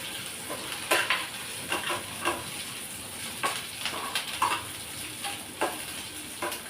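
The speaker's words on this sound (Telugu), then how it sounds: "కరివేపాకు కూడా వేసేస్తున్నాం ఇది ఫస్ట్ వేయించేసుకుందాం" Chopped onion, tomato and curry leaves fry in a pan for pappucharu, a steady close sizzle broken by repeated scraping stirs of a spoon against the pan, with no voices.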